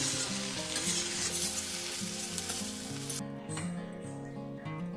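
Bathua saag greens frying in a pan, a steady crackling sizzle with stirring scrapes, close and continuous.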